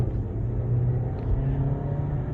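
A Ford Focus Zetec with a heavy flywheel drives on a road in Montana, its engine giving a steady, loud low rumble from inside the car that swells briefly as it pulls.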